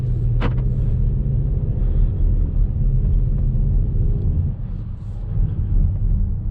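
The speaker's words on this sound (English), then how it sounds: "so you can hear the engine" Engine sound of a 2019 Škoda Kodiaq RS SUV piped through the cabin speakers, a steady low purring rumble heard from inside the car during a drive, with no talking.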